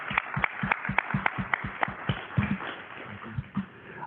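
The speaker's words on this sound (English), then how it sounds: "let's give a round of applause for our building secretaries and all that they do" A small audience at a Sitka school board meeting claps for the school building secretaries, sharp individual claps falling in a fairly steady rhythm, fairly quiet and thinning toward the end.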